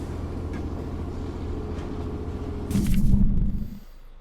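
A train rumbles steadily in a video game, a low continuous rolling drone that swells into a louder hissing surge near the end before cutting off, with no talking.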